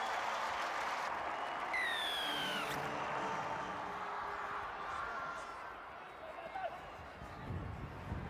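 A stadium crowd roars and applauds after a Scotland try at a rugby sevens tournament in Edinburgh. The broad, steady cheering stays distant while a commentator talks over it and a whistle sounds briefly.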